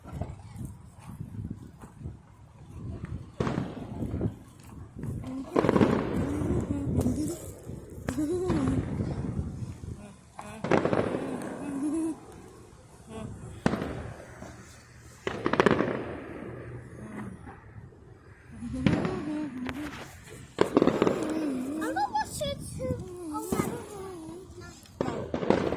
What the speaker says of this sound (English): Red fireworks.